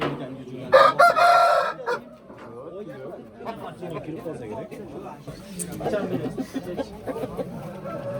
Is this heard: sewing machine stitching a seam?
no